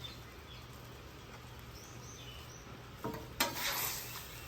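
Sour cream is stirred into beef stroganoff on a griddle, with a faint sizzle underneath and a brief burst of spatula scraping and louder frying near the end.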